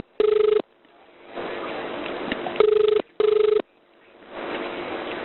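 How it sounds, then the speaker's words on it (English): Telephone ringback tone on an emergency call being connected to police and ambulance, sounding in three sharp, loud bursts with a pause between the first and second, with line noise and faint voices in the gaps. "That number's ringing for you."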